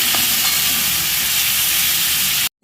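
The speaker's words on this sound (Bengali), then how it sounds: "এবার আদা রসুন দিয়ে গন্ধটা ভালো করে তাড়িয়ে নেওয়ার জন্য ভালো করে ভেজে" Ginger-garlic paste fries in a hot pan for a Bengali handi chicken, giving a steady, loud, close sizzle with faint stirring scrapes, then cutting off abruptly at the end.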